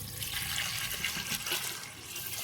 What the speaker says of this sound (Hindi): पानी ऐड होगा।